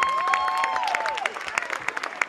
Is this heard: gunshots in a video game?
no